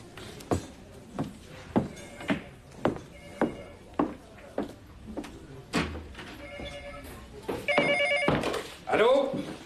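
A telephone rings in a booth, sounding as a series of regular bell rings, with footsteps and a door, and people talking over the later part.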